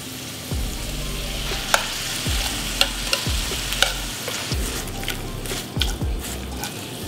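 Canned corn and onions frying together in a pan, a loud close sizzle broken by repeated sharp spatula scrapes and clicks against the pan, with faint wet squishing.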